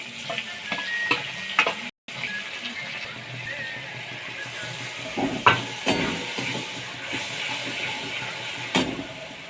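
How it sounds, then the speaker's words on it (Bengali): Tomatoes sautéing in a pan with salt, chilli powder and turmeric for a quick vegetarian dish, giving a steady close frying sizzle with stirring scrapes and occasional clicks throughout. "টমেটো দিয়ে দিই নুন লঙ্কার গুঁড়ো নুন লঙ্কার গুঁড়ো হলুদ গুঁড়ো আছে দিয়ে কষিয়ে নেবো"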